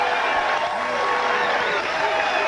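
A crowd at a 1991 boxing match roaring and cheering in a loud, sustained wash of voices, with a commentator talking over it.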